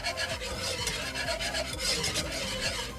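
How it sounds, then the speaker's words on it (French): A steady scraping, rubbing sound of a utensil working through a thick mixture in a pot, continuous and close, with no talking. "ensuite on touille"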